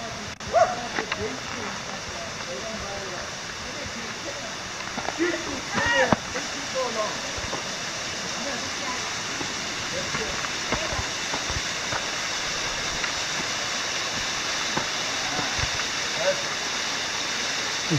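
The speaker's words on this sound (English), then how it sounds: "It's a waterfall." A waterfall in Kings Canyon roars steadily in the distance, a broad rushing wash, while people talk intermittently over it and a few clicks and knocks pop up.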